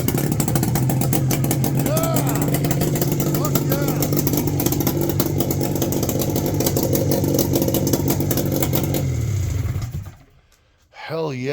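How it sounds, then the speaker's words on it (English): The engine of a 1976 Attex ST400 Chief 6x6 amphibious vehicle runs loud and close with a steady rattling idle and slight revs, then cuts out abruptly near the end, leaving near silence. "See if it'll crank with the pull starter."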